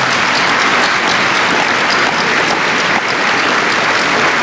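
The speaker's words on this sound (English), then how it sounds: "So if we could give them a huge round of applause." A large audience at an evening science talk by Dr Michio Kaku in Brisbane breaks into loud, sustained applause, a dense steady wash of clapping that fills the whole stretch with no voices heard.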